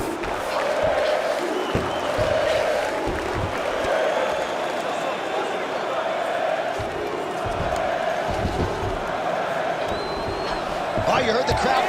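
A crowd roars and cheers in a UFC video game arena after a grueling ground battle, a broad sustained swell of voices with a commentator talking over it.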